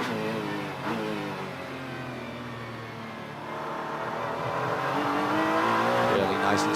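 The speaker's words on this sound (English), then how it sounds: "Storming down the back straightaway, Ashton Harrison" On-board sound of a GT race car on fresh Pirelli tires at Circuit of the Americas, its engine droning steadily and climbing in pitch while accelerating down the back straight, with a commentator talking over it.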